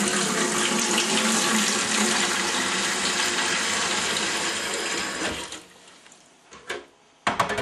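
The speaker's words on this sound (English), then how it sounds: "The first thing we have to do is fill this pot up with water and start heating the water up." A kitchen tap runs water into a pot for home brewing, a steady close rush that lasts about five seconds, then cuts off and leaves a few soft clinks and drips.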